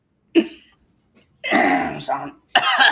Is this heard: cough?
yes